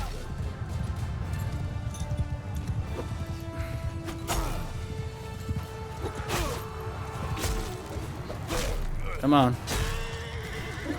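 Battle scene from the video game Mount & Blade II Bannerlord: a horse neighs and whinnies over galloping hooves and the crash and clatter of fighting, while someone speaks briefly.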